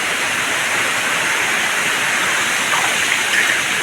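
Naba Falls in Baybay rushes in a steady, loud broadband roar of falling water, continuous and unbroken throughout with no voices.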